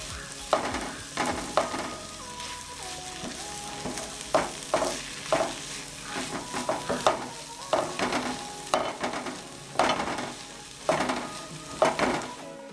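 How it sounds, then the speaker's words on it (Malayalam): Shredded cooked meat is stirred and fried in a pan for a chicken bucket dish: a soft sizzle runs beneath repeated rhythmic scrapes and scuffs of the spoon, loud and close. "ഇനി നമുക്ക് പൊടിച്ച് വെച്ച ഇറച്ചി ഇതിലേക്ക് ഇട്ട് കൊടുക്കാം. ഇത് നന്നായി മിക്സ് ചെയ്യണം."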